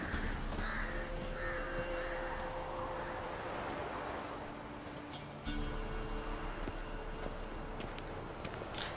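Crows cawing across a landscape in the video game The Witcher 3, several harsh calls over steady ambient game noise, with hoof clip-clop from a horse mixed in throughout.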